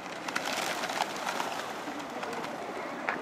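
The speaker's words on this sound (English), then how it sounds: "you will always find people feeding the pigeons" Crowds of pigeons cooing and fluttering in a park in Almaty, Kazakhstan, where people feed them; a faint, continuous outdoor murmur with soft bird calls throughout.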